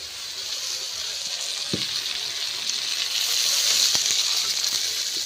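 Eggplant frying in a pan, a steady hissing sizzle that rises slightly toward the end, broken by a few sharp clicks and knocks.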